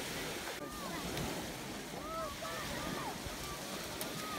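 Steady surf and wind rush fill the air, with faint distant voices or calls drifting over the constant wash of waves.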